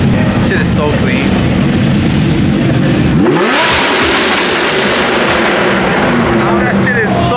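Supercars rev loudly on a Los Angeles highway, a thick, roaring engine blast with a rising rev sweep partway through over constant road roar, with voices mixed in.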